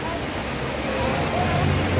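Steady rush of the indoor waterfall at the Jewel, Changi Airport, a broad continuous roar of falling water filling the space with crowd ambience.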